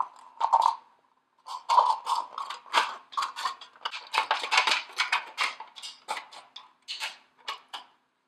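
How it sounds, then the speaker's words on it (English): Scissors snipping through the bottom edge of an aluminum tin can, a run of sharp crunching metallic cuts in quick irregular bursts after a brief pause, close and clear with no talking. "I'm going to sneak my scissors into the bottom edge there and cut the bottom of the can off"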